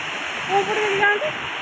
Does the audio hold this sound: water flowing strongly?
yes